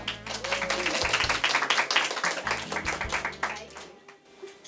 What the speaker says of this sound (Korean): 박수를 한번 보실까요?